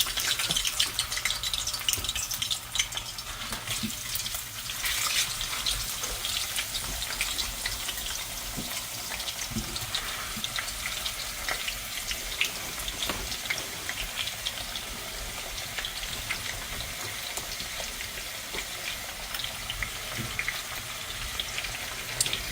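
Cut potatoes sizzle in hot oil, a steady, loud crackling hiss with scattered pops that runs unbroken throughout.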